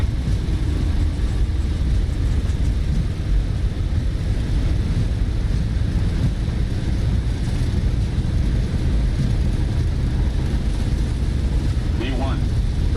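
Airliner jet engines spooling at takeoff thrust in Microsoft Flight Simulator, a steady loud broadband roar with low rumble running throughout, holding constant power, with brief talk faintly under it.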